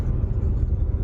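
Low, steady road rumble fills the cabin of a van driving along a snowy highway, a constant engine and tire drone with no distinct passing vehicles and no talking.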